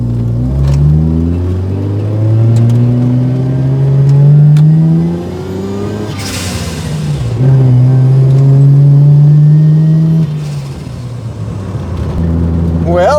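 A Mazda RX7 FC rotary engine builds revs under turbo boost, its rising harmonic tone climbing, dipping and climbing again around a gear change, steady and fairly loud from inside the car with no talk.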